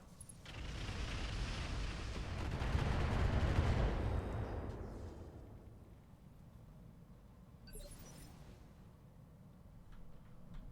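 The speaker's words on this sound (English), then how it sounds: "Getting good missile barrages off." Missile barrages fire in the Battletech Roguetech game as a dense, rumbling roar of launches and impacts that builds to a peak, then fades into quieter scattered bursts.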